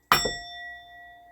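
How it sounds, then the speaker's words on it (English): A single struck bell rings out with a sharp attack and a long, steady metallic tone that sustains and slowly fades, close and clear with no talk over it. "Let me hit the bell on that."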